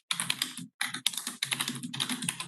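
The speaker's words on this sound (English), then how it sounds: "Somebody typing?" Close, busy typing on a computer keyboard: rapid clattering keystrokes in bursts separated by short pauses, with no voices over it.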